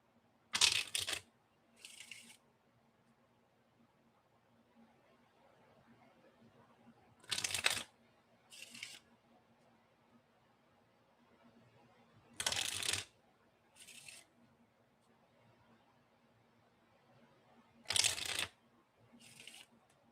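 Tarot cards being shuffled in several separate bursts of quick riffling and snapping, with quiet pauses between them against a low steady hum.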